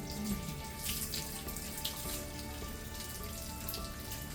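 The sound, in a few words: watering a plant cutting in moss medium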